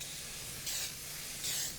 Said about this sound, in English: a little nonstick spray.